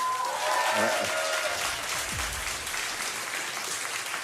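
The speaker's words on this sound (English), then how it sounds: "with a round of applause" A crowd applauds with steady clapping at a live Baldur's Gate 3 release panel, filling the whole stretch, over a faint tone at the start.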